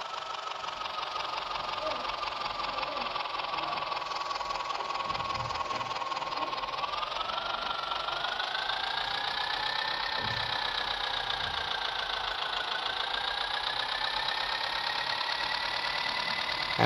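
A tractor engine in the Indian Tractor Driving 3D mobile farming game hums steadily, climbing in pitch partway through and then holding a higher, revving drone until the end.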